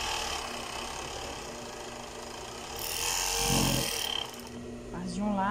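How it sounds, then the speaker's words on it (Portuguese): An overlock sewing machine stitches the fabric lining of a lace top, a steady mechanical whirring with a louder burst near the middle, while someone talks over it. "Vamos passar aqui o overlock aqui"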